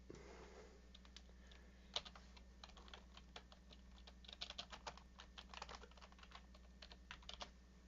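Steady clacking of computer keys in quick irregular bursts, close up, with a low constant hum underneath and no voices.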